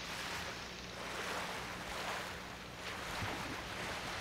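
Ocean waves in the video game Ghost of Tsushima wash in a steady, soft roar that swells and fades gently, mixed with faint wind and heard alone.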